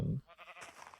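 A single sheep bleats in Minecraft, a short wavering cry following a brief low thump, fairly faint and alone.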